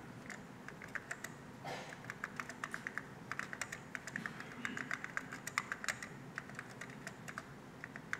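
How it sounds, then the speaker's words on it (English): Keys clack steadily and briskly on a Xerox Alto computer keyboard, a close run of crisp individual keystrokes with no talking over them. "And I'm going to start typing something in here."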